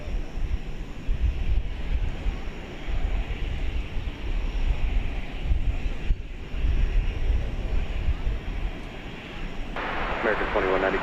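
An older aircraft at DFW Airport at night rumbles with a continuous, broad engine roar for several seconds, steady and fairly loud, with a voice talking over part of it.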